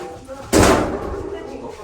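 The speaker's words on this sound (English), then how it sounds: "when the doors closed like this" An apartment door in a cheap Tokyo student flat shuts with a single sharp slam, followed by a lingering hollow rumble in the room.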